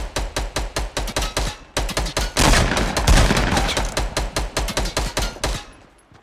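Rapid gunfire from Fortnite Battle Royale, a video game: dense bursts of shots crack in quick succession, building into a loud sustained barrage in the middle before breaking back into separate sharp shots, with no talk over it.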